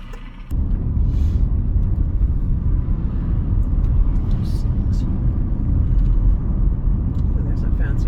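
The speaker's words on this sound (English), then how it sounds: "Oh, there's a fancy car." Fancy car passing by on a rainy street, a loud low rumble that swells in close and stays heavy, with wet road noise.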